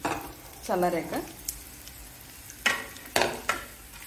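Tamarind dropped into a hot tempering in a pan with the stove just switched off, a few short sizzling bursts and clatters near the mic, with a brief voice early on.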